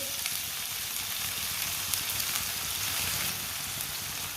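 Chopped green onions fry in a pan for a Punjabi-style radish dish, giving a steady, even sizzle with faint stirring crackles throughout and no talk.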